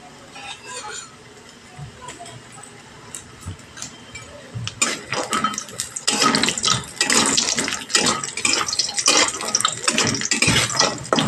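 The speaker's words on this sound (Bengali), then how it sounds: "তেল গরম হয়ে গেছে, বড়িগুলো দিয়ে দেবো। গ্যাসের ফ্লেমটা লোতে রেখে ভেজে নেব।" Lentil dumplings (bori) drop into hot oil in a pan over a low gas flame. A quiet start gives way to loud, close, dense sizzling and crackling that continues steadily.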